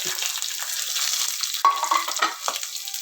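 Ginger and garlic sauté in hot oil with curry leaves for papaya pickle, a continuous close sizzle broken by scraping stirs of a spoon in the pan.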